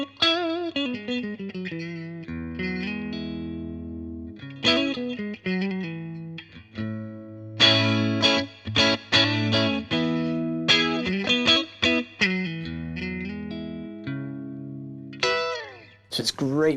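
An electric guitar on the position four pickup plays clean, chimey chords and single notes through a J Rockett Lenny boost pedal, close and clear, with short pauses between phrases.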